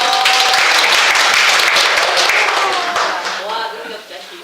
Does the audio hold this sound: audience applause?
yes